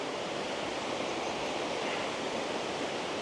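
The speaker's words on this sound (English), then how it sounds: "you can probably hear the sound of the water on a naturally occurring bridge" Water rushing over a naturally occurring rock bridge at Goomburra, Queensland after heavy rain, a steady broad roar of flowing rapids, constant and fairly close with no voices.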